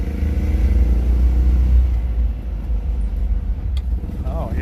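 A BMW Isetta pulls along in second gear, its small engine giving a low, steady rumble from inside the car that fades slightly toward the end.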